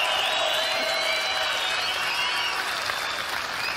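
Audience applause fills a comedy show venue, a dense, steady wash of clapping that stays loud and close throughout with a faint crowd murmur beneath.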